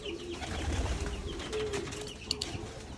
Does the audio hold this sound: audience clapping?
no